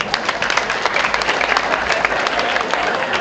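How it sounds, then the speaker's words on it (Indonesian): A school audience at an anniversary event bursts into applause, a dense, continuous patter of many hands clapping at close range throughout the short stretch. "Tepuk tangan dulu dong."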